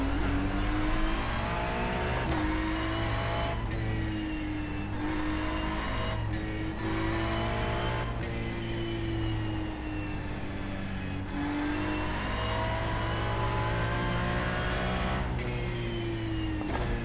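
A Ferrari race car engine screams at high revs on a track, its pitch rising and dropping sharply through gear changes and braking, loud and continuous throughout.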